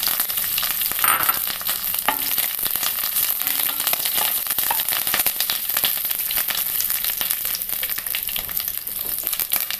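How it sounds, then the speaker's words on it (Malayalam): Green chilies hit hot oil already holding mustard seeds and curry leaves, producing a loud, dense, continuous sizzle with rapid crackling and spitting from start to finish, without any talking. "പച്ചമുളക് ചേർക്കാം."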